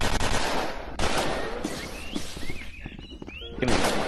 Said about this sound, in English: I got machine gun!